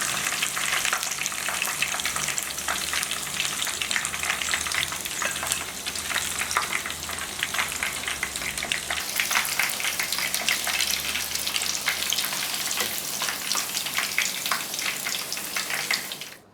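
Chicken meatballs frying in oil over low heat, a steady, dense, loud sizzle that holds evenly throughout with crackling pops, cutting off abruptly at the end.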